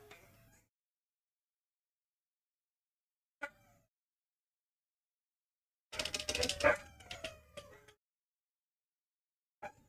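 Husky dogs break into a howling chorus at about six seconds, a loud, wavering burst of overlapping voices lasting roughly two seconds, with brief faint yelps and noises before and after it.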